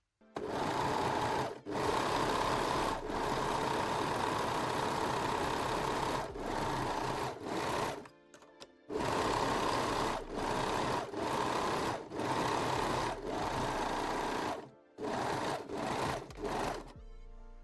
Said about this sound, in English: Finish the long straight sides of the lining center front piece with a serger or zigzag stitch